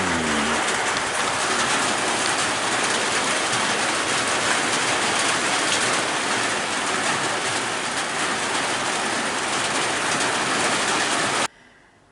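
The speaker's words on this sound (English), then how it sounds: "so we finally got this rain" Steady rain falls in a dense, even hiss on a wet afternoon, loud and continuous until it cuts off abruptly near the end, with no one speaking.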